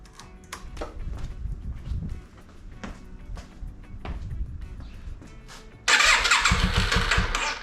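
A Yamaha Virago 535 motorcycle with a freshly charged battery cranks in several short bursts, then catches and roars loudly to life near the end, close by with no talk.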